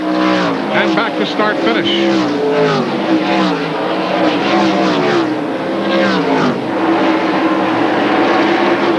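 NASCAR Busch Grand National race cars at Watkins Glen, engines roaring loudly and continuously as they rev and pass, heard beneath a commentator talking.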